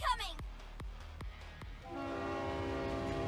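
A train horn in the video game NIKKE, a sustained chord blaring in over a series of regular heavy thuds, loud against a quieter battle backdrop with a voice speaking faintly.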